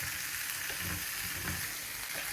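Chicken frying on high heat in a grill frying pan makes a dense, even sizzle that holds at one level, with faint low bubbling underneath and no talking.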